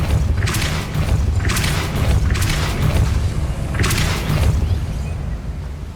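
Hogwarts Legacy video game Depulso spell effects: repeated deep booms and whooshing bursts, about four in a row at roughly one-second intervals, loud and close over a constant low rumble.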